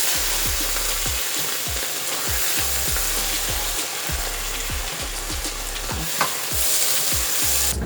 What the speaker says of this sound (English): I have the heat on high.